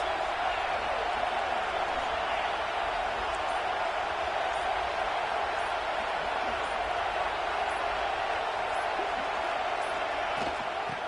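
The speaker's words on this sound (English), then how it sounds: "Big third down as the crowd gets behind this defense." A football stadium crowd at a Georgia vs Florida State game roars steadily behind the defense on a third down, a loud, continuous wall of cheering and noise that holds for the whole stretch.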